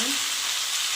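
Half a kilo of chicken pieces frying in a pan for a home-style chicken gravy, giving a loud, steady broadband sizzle with no talk over it.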